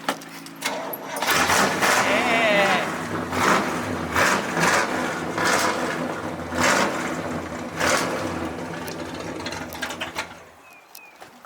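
A 1967 Pontiac GTO with a 400 engine and four-speed idles close by, a rough loping rumble that swells and dips in repeated pulses as the throttle is worked, then cuts off near the end; a brief voice is heard.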